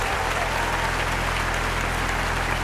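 Audience applause at a Hindi comedy poetry gathering, a continuous, loud, dense roar of clapping with low hum underneath, steady throughout.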